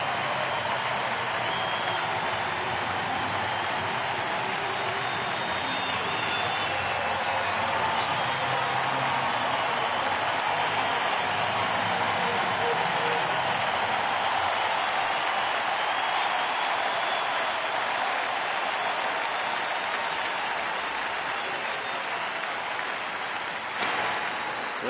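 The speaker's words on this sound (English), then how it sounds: "The crowd already cheering Counsell on his bobblehead day." A baseball crowd at Miller Park in Milwaukee applauds and cheers Craig Counsell on his bobblehead day, a steady, loud wash of clapping and crowd noise that holds without breaks throughout.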